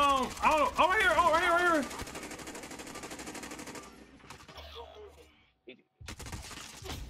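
Gunfire in the Call of Duty Warzone video game, a burst of rapid shots early on, then quieter in-game sounds and brief gaps, with a player talking over the action.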